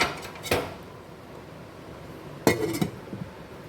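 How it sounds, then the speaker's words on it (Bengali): A lid clanks shut on a pot of marinated mutton dressed with raw mustard oil, two sharp metallic knocks close by, the second followed by a brief rattle as it settles. "দিয়ে আমি এটা ঢাকনাটা বন্ধ করে দেবো।"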